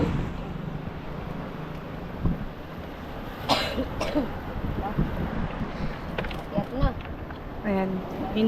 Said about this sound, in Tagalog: Ayan, inuubo na naman si ate.